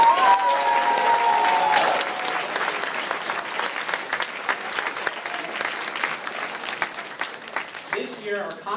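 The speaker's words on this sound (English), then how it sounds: "give them a big round of applause" A conference audience applauding, with dense clapping loud at first and then thinning and fading, mixed with a few voices in the crowd.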